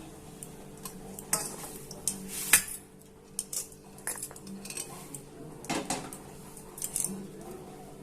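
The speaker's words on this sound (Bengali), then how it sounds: "আমি এবার থালায় ঢেলে নিচ্ছি" Cooked rice-flour dough for chushi pitha scraped and tipped from a pot onto a plate, a close series of metallic scrapes, clinks and knocks of utensil on cookware over a faint background.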